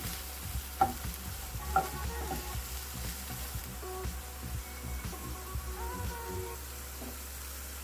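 Quiet sizzling of onions and mushrooms frying in a pan until their water evaporates, with occasional stirring and scraping clatters.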